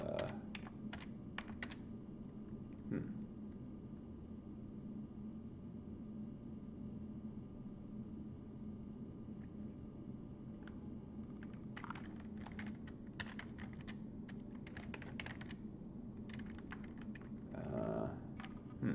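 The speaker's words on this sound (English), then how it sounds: "I think I can just type this." Steady typing on a computer keyboard, with quick bursts of key clicks separated by short pauses, fairly close and quiet over a faint low background hum.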